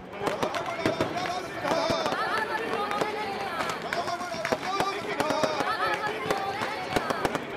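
Sharp fireworks bangs and crackles pop repeatedly over a noisy crowd cheering and talking as Ravana effigies burn at the Kota Dussehra fair.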